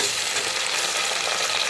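Tomatoes dropped into frying onions in a home kitchen pan, giving an even, continuous close sizzle with faint stirring texture and no talk.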